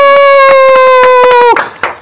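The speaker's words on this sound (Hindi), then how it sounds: "तालियां" Several sharp hand claps ring out over a steady high whistling tone at the ribbon-cutting opening ceremony of Bilal's new zebra finch bird setup, ending in a short, noisy burst of clapping.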